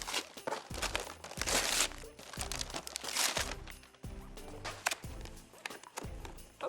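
Gift wrapping paper torn and crumpled while holiday presents are unboxed, a run of loud close crinkling and ripping bursts, some in quick clusters and others in longer tears, with no voices over it.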